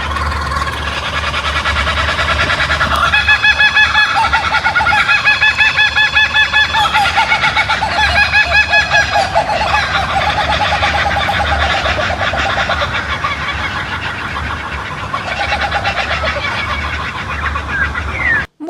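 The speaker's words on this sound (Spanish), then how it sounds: "es mi pájaro favorito de Australia, es el kookaburra, y se juntan en los árboles y se empiezan a reír todos juntos" Kookaburras in trees in Australia, a loud dense chorus of laughing, cackling bird calls rising and falling together for the whole stretch over steady background noise.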